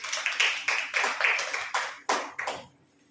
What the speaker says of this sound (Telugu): చప్పట్లు కొట్టి దేవుని మహిమపరుస్తాం.